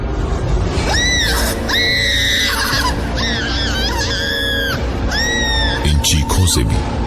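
Repeated high, wavering screams in a horror story, several long cries rising and falling over a dense background with some rumbling, loud and close, ending in a burst of noisy clatter.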